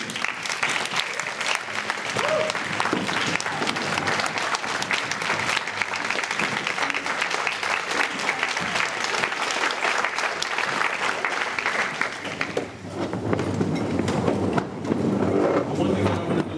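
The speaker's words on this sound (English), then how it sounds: "I don't want you to stand up and just clap it up for the folks who's in the room" Sustained, loud applause from a room full of people at a speaking event, dense clapping running almost the whole time with a brief dip before it swells again.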